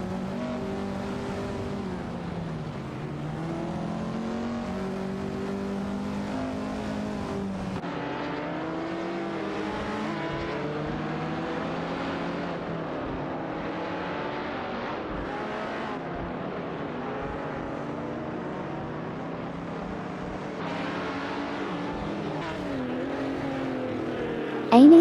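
Race cars in a racing video game roar along the track, engine notes rising and falling as they shift and jostle, a steady loud drone of overlapping motors throughout.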